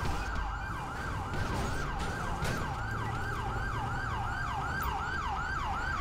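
An ambulance siren in GTA 5 wails in a steady, repeating up-and-down sweep for the whole stretch, loud and close over a low rumble of traffic and engine noise.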